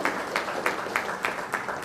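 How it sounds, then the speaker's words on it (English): Panel discussion audience applauding the panel leader: a continuous wash of clapping with a regular pulse of louder hits roughly every third of a second, moderately loud and sustained throughout. "can we have a round of applause, please?"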